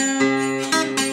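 Short fingerpicked blues phrase on acoustic guitar, from a guitar lesson, with the thumb on the open fourth string and a few distinct plucks ringing close and clear.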